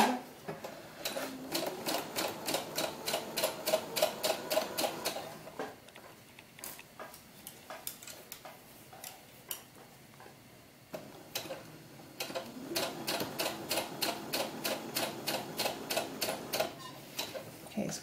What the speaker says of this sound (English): let's just go back to our straight stitch. And let's put a seam up the side.